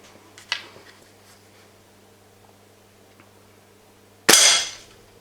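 Gamo Whisper Maxxim IGT air rifle firing a heavy H&N Barracuda pellet: one sharp, loud crack near the end, preceded by a smaller click earlier over quiet background.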